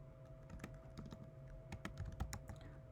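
Typing on a computer keyboard: quiet, irregular clicks of keys pressed one after another, close by and faint, with no voices.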